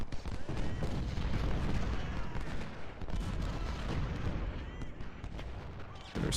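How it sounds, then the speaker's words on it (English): Distant artillery bombardment in a Civil War strategy game, with a continuous rumble of booming cannon fire and scattered blasts over about six seconds, with no voice speaking during it. "Artillery can kind of keep bombarding from a distance"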